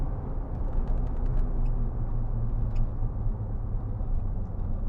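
A 2009 Land Rover Discovery 2 with automatic transmission trundles slowly around town, giving a steady low engine and road rumble heard from inside the cabin, with a few faint clicks over it.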